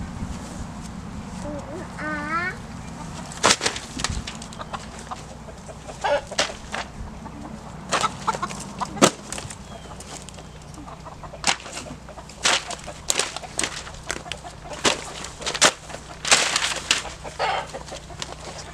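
Backyard chickens cluck and scratch through shredded paper and homework laid down for chicken-assisted composting. Sharp pecks and scattered clucks ring out close by, with a voice talking at times.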